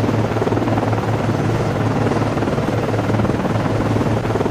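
An ASW helicopter launches from a Perry-class frigate in the Cold Waters naval game, its steady, loud rotor thrum and turbine roar continuing unbroken throughout.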